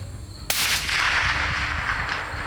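A 6.5 Creedmoor or .308 Winchester rifle shot into a ham outdoors: one sharp, loud crack followed by a long rolling echo that fades slowly over steady background rumble.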